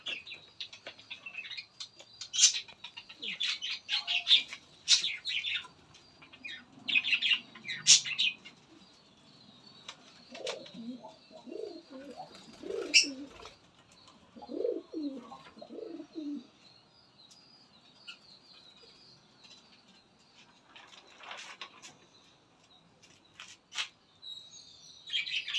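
Pigeons nesting with their chicks coo softly in low, rolling bursts, mixed with thin high chirps, occasional wing flutters and quiet gaps.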